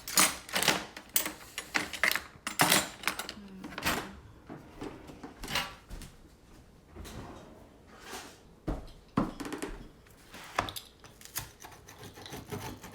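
Crispy homemade thin-crust pizza being cut, close crunchy crackling and scraping bursts of the blade through the crust, repeated irregularly over several seconds with brief pauses, no talk.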